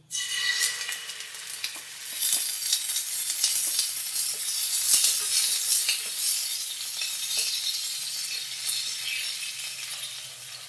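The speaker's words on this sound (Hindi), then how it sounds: "अब हम इसमें प्याज का पेस्ट ऐड करेंगे।" A steady, loud sizzle of onion paste frying in hot ghee for an egg curry, with occasional scrapes and light clinks of a spoon stirring the pan.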